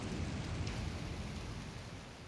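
Rain falls in the video game Shenmue II, a constant hiss of steady downpour heard alone at moderate loudness, with no talk.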